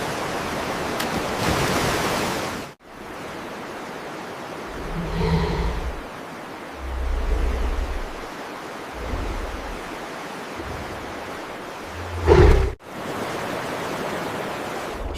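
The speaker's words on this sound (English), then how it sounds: "The churning water explodes with frantic jumping salmon." Churning river water roars steadily, broken by low heavy thumps and splashes as salmon leap frantically. The sound is loud and close, with no voices.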